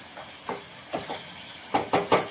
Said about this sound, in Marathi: तेलामध्ये आपण चांगलं परतून घ्यायचं.